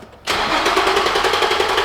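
An Infiniti G35 engine cranks and catches after a brief quiet moment, then settles into a steady, loud idle with a faint rhythmic ticking close by in a garage.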